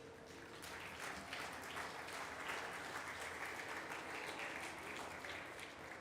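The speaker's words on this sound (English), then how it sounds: "if you would please give them a round of applause" An audience applauds panelists at a climate technology conference session, steady continuous clapping from a seated crowd that swells slightly and holds, heard faintly and evenly throughout.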